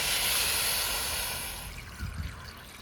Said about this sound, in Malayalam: ആവശ്യത്തിനുള്ള വെള്ളം കൂടെ ഒഴിച്ചു കൊടുക്കാം അതിൻ്റെ അകത്തോട്ട്